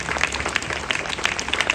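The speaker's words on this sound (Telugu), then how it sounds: "అందరూ కూడా ఈ ధ్వజాన్ని ఆవిష్కరించిన ఈ ధ్వజానికై మనం దేవునికి కృతజ్ఞత తెలుపుతూ గట్టిగా చప్పట్లు కొడదాం" A church congregation at a Velankanni Mata flag hoisting applauds, a dense, close burst of many hands clapping together at a steady loud level.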